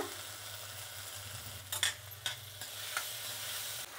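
Tomato fries in a pan with a quiet, soft sizzle. A few stirring scrapes and light clinks rise above it near the middle.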